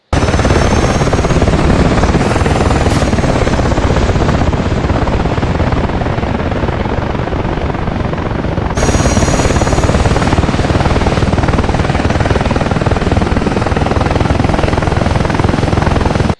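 Apache attack helicopters in the combat simulator DCS World, a loud continuous rotor and turbine drone that fills the whole stretch, with an abrupt shift in tone midway as the view changes.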